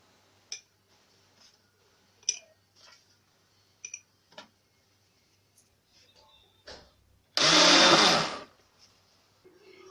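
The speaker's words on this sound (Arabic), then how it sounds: "غادي نضرب الخليط الدقيق" An electric mixer beats flour batter for a Ramadan cream dessert: one loud, steady whirring burst lasting just over a second, preceded by a few soft scattered clicks and knocks, with no talking.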